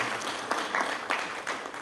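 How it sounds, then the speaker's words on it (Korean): An audience at a youth entrepreneurship camp event claps, giving a short, fairly faint patter of applause in a hall with uneven bursts and no speech over it. "박수 한번 보내주십시오"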